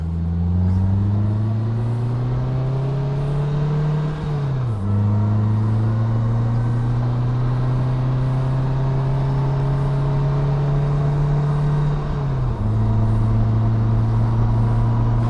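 A 2021 Polaris Slingshot S engine revs loud and close, its pitch climbing steadily, dropping briefly at each gear shift around a second's lag, then climbing again through two shifts.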